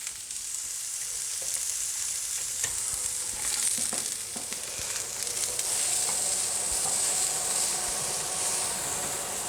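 Stir-fried tofu sizzles steadily in a pan for a maple and ginger stir fry, a continuous close hiss with occasional scraping stirs and small crackles throughout.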